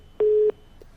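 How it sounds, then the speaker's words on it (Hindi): A telephone disconnect tone sounds after a call is cut: one clear, steady beep of about a third of a second, followed by a faint short blip, on an otherwise quiet line. "टेलीफोन काट दिए नैना चौटाला,"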